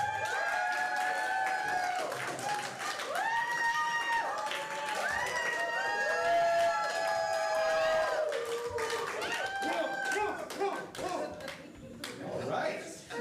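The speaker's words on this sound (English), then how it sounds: "one hand clapping against the other is a beautiful sound. Please make it right now for Love Wolf." An audience applauds the duo Love Wolf at an improv comedy show, with dense sustained clapping and cheering under bright musical tones for several seconds.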